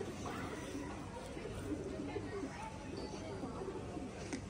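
Pigeons at a pigeon-keeping club coo softly in repeated low, throaty calls while men chatter nearby, the birds' murmuring mixed under their conversation.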